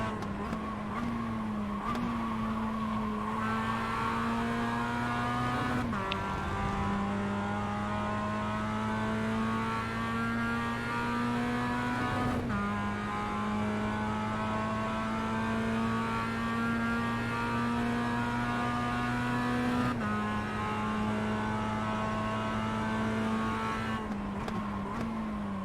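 Mazda MX-5 Cup race cars in the iRacing sim at Okayama, one engine droning steadily at high revs with a few sharp gear shifts and faint tire noise, continuous and even.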